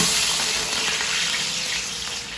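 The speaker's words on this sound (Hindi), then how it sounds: "मैं प्याज फ्राई कर लूँ" A kilo of onions fries in hot ghee for a commercial beef pulao, giving a loud, steady, dense sizzle that carries through the whole stretch with no voices.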